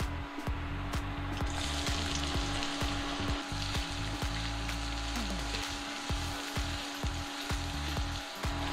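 Onions frying in hot oil with a dried red chilli and a bay leaf for a spicy Indian chicken curry, a steady close sizzle with scraping stirs and a few clattering knocks throughout.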